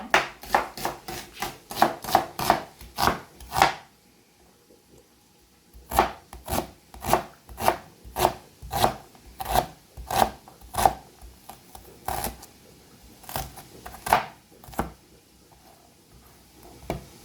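A knife chops onion, garlic and shallot into small pieces on a board for a Korean sundubu-jjigae, giving sharp, evenly spaced close knocks in two bursts separated by a short pause.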